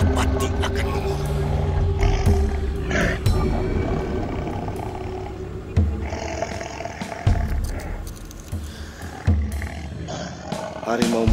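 A tiger roars loudly and repeatedly in a dramatic fantasy scene, with heavy growling bursts layered over dense background music and sound effects.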